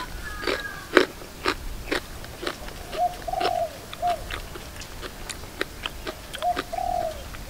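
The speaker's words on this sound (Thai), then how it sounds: "เฮ้ยเจียงนกขันแล้ว" A kept pet bird, likely a dove, gives repeated cooing calls, a few short phrases near and clear over background crunching and biting from someone eating a raw beef and liver meal outdoors.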